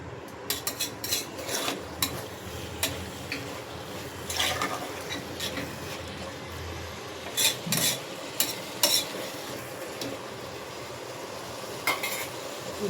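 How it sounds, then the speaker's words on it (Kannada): Chopped tomatoes are stirred into vegetable palav in a pan: repeated close clinks and scrapes of a spoon against metal at an uneven rhythm over a soft, constant sizzle. "ಇದಕ್ಕೆ ನಾನಿವಾಗ ಕಟ್ ಮಾಡಿ ಇಟ್ಕೊಂಡಿರುವಂಥ ಟೊಮೊಟೊ ಆ್ಯಡ್ ಮಾಡ್ತಾಯಿದ್ದೀನಿ. ನೀಟಾಗಿ ಮಿಕ್ಸ್ ಮಾಡ್ಕೊಳ್ಳೋಣ."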